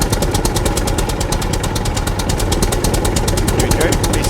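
Tractor engine in the game SCUM runs steadily and loudly throughout, a constant rumbling drone with a rapid rhythmic pulsing, while people talk over it.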